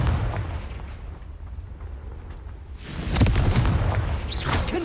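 Confringo fire spell blasts in the Hogwarts Legacy video game: a loud burst and crackling impact after a stretch of rumbling game ambience, with a further whoosh near the end.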